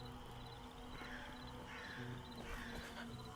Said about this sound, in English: Is that a real crow I hear, or is that a fake crow?